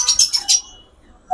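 Caged pet birds at the Katabon animal market chirp in a quick burst of four bright tweets, followed by near quiet and then one more short call at the end.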